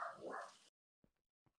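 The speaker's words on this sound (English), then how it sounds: "you can already hear them barking" Dogs barking somewhere in a house as the owners arrive, a loud burst of barks at the start followed by a couple of faint, brief yips after a pause.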